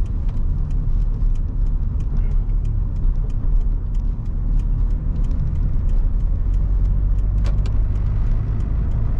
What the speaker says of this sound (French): J'ai repris en troisième à 20 km/h sans aucune difficulté.